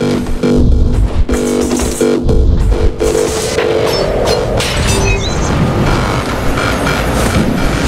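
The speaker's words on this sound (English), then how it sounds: "You could catch a train. They have an entry tube here, same as the base, and one is just arriving at the station to your left." A train pulls into a station in the Ghostrunner video game, a loud, close rumble with heavy clanks and booms at first, then a steady rolling roar of cars and wheels, alone without talk.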